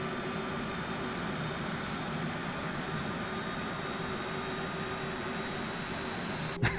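Boeing 737 Classic jet engine running in a flight simulator, a steady mid-level roar with a constant whine, with a brief click near the end.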